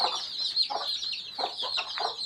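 A hen clucks in short repeated bursts, with faint high peeping from her four or five chicks, some three and others five to seven days old, running steadily underneath, fairly close.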